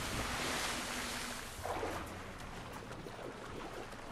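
Water sloshes and rushes inside a cenote in the video game Assassin's Creed Liberation, a loud broad splash at first that eases into a steadier watery wash, with no talk.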